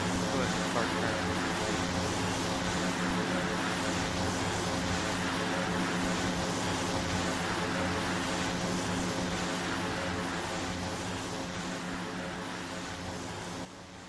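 A simulated King Air 260 twin turboprop climbs in the ATC24 game, giving a steady, even propeller and engine drone that continues at constant level throughout with no variation.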